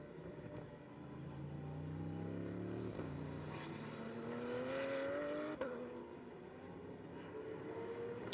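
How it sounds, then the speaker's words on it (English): A Porsche GT race car driving at Paul Ricard during an endurance race, its engine note climbing through the gears with rising whines and a sharp shift, then fading at a distance. "That's the 93, the Chazelle Technology Porsche"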